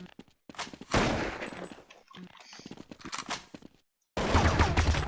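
Rapid bursts of gunfire in Counter-Strike 1.6 jailbreak play, loud clustered shots broken by short silences, with people talking over the game.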